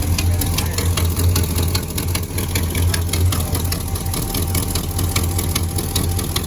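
A 1988 Monte Carlo SS engine idles steadily after a cold start, with a constant low rumble and a fast, even ticking pulse running throughout.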